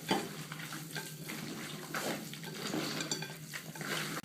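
Raw no-bake dog treat dough of oats and canned mackerel being stirred and mashed in a bowl, a steady close wet scraping and squelching that continues without pause, with no talking.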